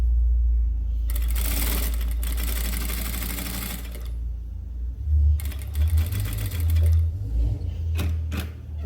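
Domestic sewing machine stitching fabric for a bag organizer: a steady whirring run of stitches that stops, then resumes in shorter bursts with low motor hum and a few clicks, close and loud.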